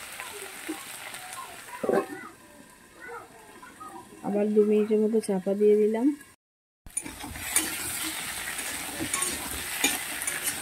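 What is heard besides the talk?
potatoes frying in a pan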